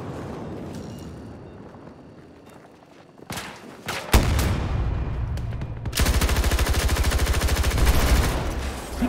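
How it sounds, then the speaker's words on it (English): Gunfire in the video game Battlefield 2042 rings out, with scattered sharp shots followed by loud, close bursts and then a sustained rapid automatic volley that fills the last few seconds. "I think I'm shooting the handrail"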